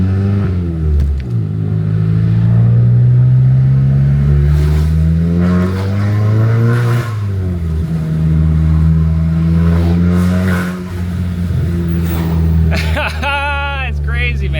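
A straight-piped, stage 2 tuned MK7 VW GTI engine revs repeatedly, climbing and falling in loud, raspy sweeps with a deep rumble between pulls, heard up close.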